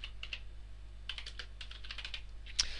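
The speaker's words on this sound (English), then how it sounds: "just type, you know, the words that you want to use" Quiet clicking of keys on a computer keyboard, irregular bursts of typing with brief pauses and a sharper keystroke near the end.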